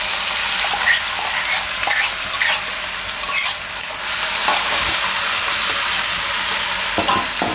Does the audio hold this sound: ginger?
yes